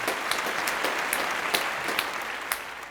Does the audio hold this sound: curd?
no